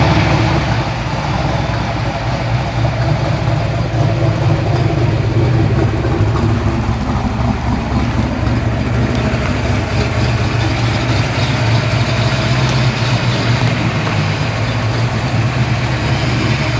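A car engine idling while it warms up, a steady loud low rumble that holds even and unbroken throughout, close by with no talk over it.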